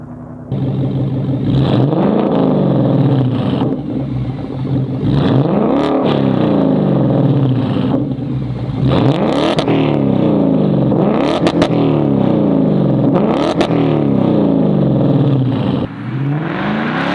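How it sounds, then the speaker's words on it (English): A 2024 S650 Ford Mustang with an AWE Track Edition cat-back exhaust revving hard again and again, each rev rising then falling, loud raspy exhaust rumble close by, no voices. "Now that we have the track edition exhaust on our S650 Mustang, let's see how it sounds."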